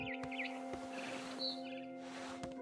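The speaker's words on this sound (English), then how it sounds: "Then I heard chirping outside my window. It was a barn swallow going back to her nest." A barn swallow chirps in the video game What Remains of Edith Finch, a few quick bright tweets over a steady electronic hum, with a soft rushing noise toward the end.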